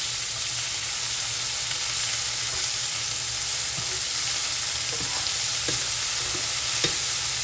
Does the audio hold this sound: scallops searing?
yes